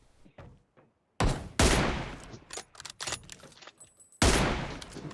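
PUBG Mobile gunfire: loud, close bursts of automatic fire and rapid shot volleys, separated by brief pauses, with a final heavy burst at the end.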